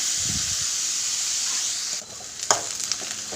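Onions and curry leaves sautéing in a pan for prawn gravy give a steady, close sizzle with a brief dip and a couple of spoon clacks near the end.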